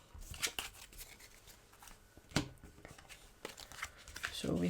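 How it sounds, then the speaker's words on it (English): Cards being shuffled for a board-game playthrough, with soft riffling and scattered sharp card snaps at close range over a quiet room, at low overall loudness. "So we have to shuffle."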